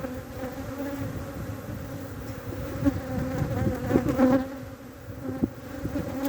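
Honeybees buzz thickly around an opened hive in spring, a close, continuous droning swarm that swells and wavers with agitated passes near the listener.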